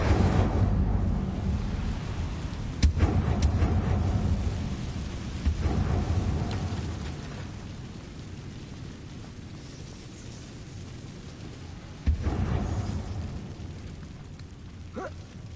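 A fire spell cast in Hogwarts Legacy, a loud rumbling whoosh with crackling bursts, sharp impacts near 3, 5.5 and 12 seconds over continuous roaring flames.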